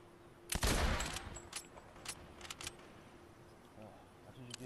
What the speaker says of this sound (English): now you're being shot at